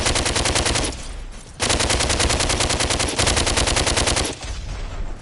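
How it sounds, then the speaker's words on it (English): Heavy automatic gunfire in the PSVR shooter DWVR, played with an Aim controller: loud, rapid continuous bursts with a couple of brief pauses, close and overwhelming, with no speech. "Oh god, that gun is so loud, it does my ears in."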